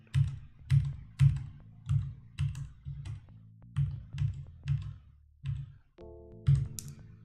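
Computer keyboard keys are pressed to play Akalabeth, a steady series of about a dozen close, solid clacks at a regular pace, with a brief game tone near the end.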